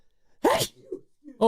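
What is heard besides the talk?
sneeze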